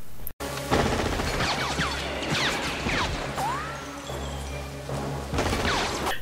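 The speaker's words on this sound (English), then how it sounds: "They have a little shootout." Gunfire in a shootout from the film Predator 2 rattles in dense, continuous bursts with crashes and thuds, loud and close, without speech.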